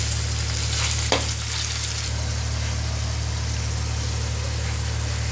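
Chicken pieces sizzle in a hot pan with a steady broadband hiss and a low hum underneath, a brief scrape of stirring near the start, then continuous frying for the rest.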